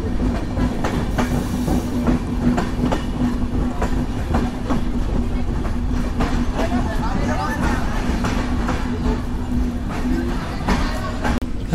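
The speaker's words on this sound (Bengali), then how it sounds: "সাগরদাড়ি এক্সপ্রেস সাবদারপুর রেলওয়ে স্টেশনে প্রবেশ করছে।" Sagordari Express passenger train pulling into Sabdarpur railway station on a morning run, a steady loud rumble of wheels with rhythmic clickety-clack and a sustained low hum throughout, a voice speaking over it.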